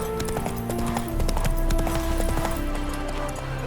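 Hooves of the horse Roach galloping in The Witcher III, a rapid, steady clip-clop drumming close by, continuous over a low ambient background.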